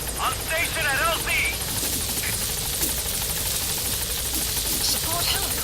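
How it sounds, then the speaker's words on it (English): Support helicopter arriving in the video game Metal Gear Solid 5, a steady rotor and engine drone filling the scene throughout, with a voice talking over it. "Support helicopter has arrived."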